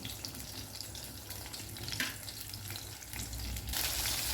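Prawns fry one by one in a hot pan, a close, continuous crackling sizzle with brief splashy bursts that swells louder near the end, no voices present.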